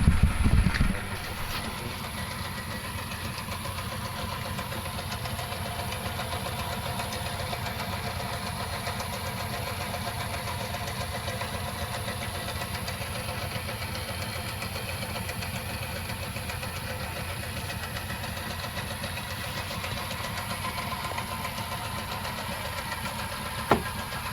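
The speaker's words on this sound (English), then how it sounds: "now all that gearbox is going round, as you can see" A metalworking lathe runs with its gearbox turning and driving the carriage, a steady, even mechanical hum and whir that holds constant throughout, close by and uninterrupted.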